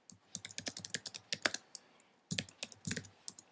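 Fingers type on a computer keyboard in two quick flurries of crisp key clicks separated by a short pause, close and fairly faint.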